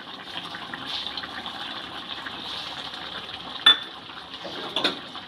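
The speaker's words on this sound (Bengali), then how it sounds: "এবার ভেজে রাখা চিংড়ি মাছগুলো সবজির সাথে মিশিয়ে দিলাম।" Fried shrimp being stirred into cooked vegetables and greens in a pan makes a faint, soft wet shuffling, broken by two sharp utensil knocks against the pan near the end.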